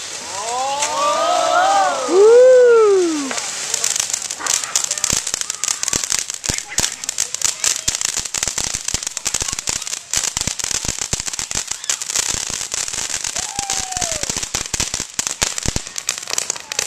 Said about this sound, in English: yes, fireworks time.